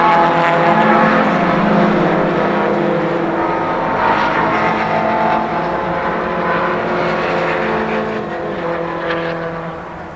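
MG Cup racing cars at a Silverstone Equipe Classic Racing meeting pass in a loud, sustained engine roar that fades slightly toward the end, with no voices.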